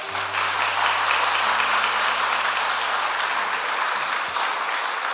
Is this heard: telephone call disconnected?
no